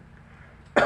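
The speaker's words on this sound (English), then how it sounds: "When you cough, do like this," A single short cough into the elbow, demonstrated by a nurse as a hygiene example, sounds abruptly and close up at the very end after near silence.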